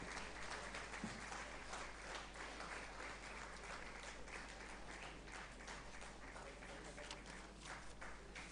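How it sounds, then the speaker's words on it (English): Steady applause from an audience for prize winners at an indoor statistics day ceremony, a dense even patter of many hands clapping that continues unbroken, slightly distant and quiet against a low steady hum. "A big round of applause for both these prize winners."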